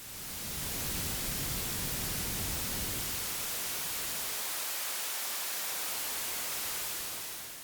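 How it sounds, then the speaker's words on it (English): Steady broadband white noise test signal played through an EQ, a constant loud hiss whose low end thins out partway through while the bright upper hiss continues unchanged. "we can use white noise and a spectrum analyzer to get a better idea of the curve shapes"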